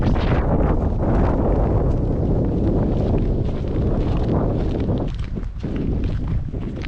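Strong coastal wind roars steadily across the microphone, a loud, continuous buffeting rush that dips briefly near the end before surging again, with no talk.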